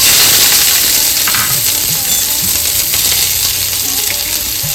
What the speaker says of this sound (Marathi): चार चमचे तेल घातले कांदा आणि मिरची परतून घेऊया